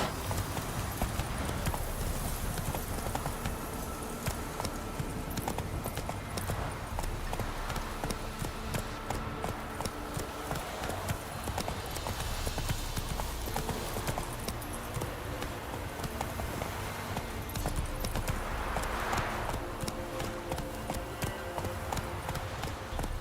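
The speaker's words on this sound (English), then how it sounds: "Run, Roach." Horse hooves gallop in The Witcher 3 video game, a continuous fast clip-clop rhythm over a dense game soundscape. Brief spoken bits may occur alongside.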